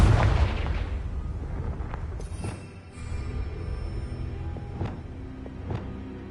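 Confringo blast curse in Hogwarts Legacy, a deep booming explosion at the start that rolls off into a low rumble, followed by faint thuds and a few higher tonal effects.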